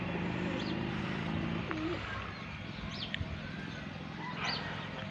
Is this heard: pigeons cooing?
yes